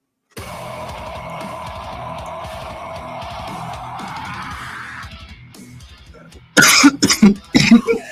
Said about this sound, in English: Feel so bad that I'm coughing so much.